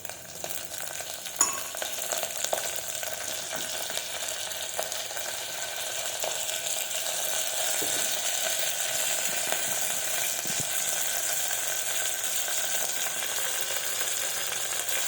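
Crushed cumin and garlic paste sizzles steadily in hot oil for a masala rasam dal, a continuous close frying hiss with occasional faint clinks and no talking.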